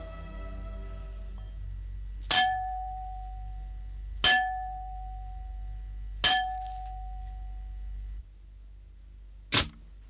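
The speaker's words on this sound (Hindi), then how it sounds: "तुमने ये घंटा बजाया है?" A large bell is struck three times at roughly two-second intervals, each sharp clang ringing out and decaying over a low steady hum, followed by a fainter fourth metallic hit, with no voices.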